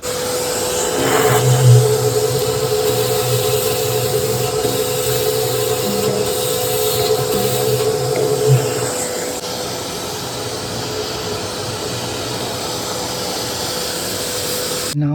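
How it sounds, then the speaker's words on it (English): Continuous loud whine of a vacuum cleaner pump running close by, sucking rust from a motorcycle petrol tank, steady throughout with slight fluctuations and a faint voice partway through. "I'm going to use the vacuum cleaner pump and remove it"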